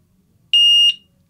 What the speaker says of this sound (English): you'll get a single beep confirming it's in the right slot, and then a second beep to confirm it's armed